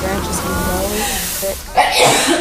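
A single sharp sneeze bursts out near the end, close and loud, following a stretch of talking.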